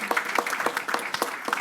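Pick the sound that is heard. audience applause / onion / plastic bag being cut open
audience applause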